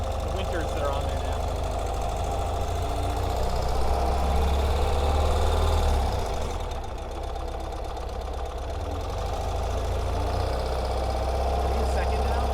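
A Ural sidecar motorcycle with two-wheel drive running in first gear, its engine droning steadily and rising slightly before easing off, heard up close with wind noise and occasional talk from riders.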